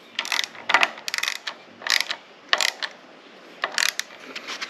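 A ratchet wrench tightening carburetor bolts on a Briggs & Stratton 6.75 engine, with close, rapid clicking bursts repeated in short strokes and brief pauses between them.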